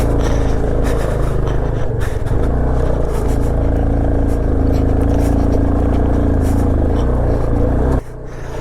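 A car engine strains and drones steadily at high altitude on a mountain road in North Sikkim, losing RPM; a loud continuous rumble that drops slightly near the end.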